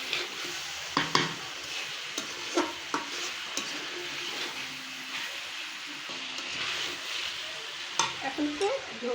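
Small fish for a sour curry cook in a pot with potatoes, tilapia and mango: a steady close sizzle and bubbling runs throughout, broken by intermittent stirring scrapes and clinks, with no talking.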